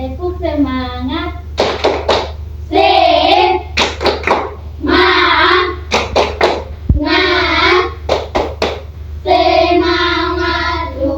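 Schoolchildren in an Indonesian fourth-grade classroom do a rhythmic spirit clap (tepuk semangat), clapping in quick bursts interleaved with sung and chanted voices, close and lively with short pauses between claps.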